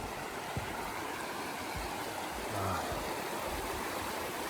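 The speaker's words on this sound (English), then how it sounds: "All right, it's river crossing time, maybe." Flowing river water at a trail crossing in Washington on the Pacific Crest Trail, a steady broadband rush held at an even level throughout, with no voices.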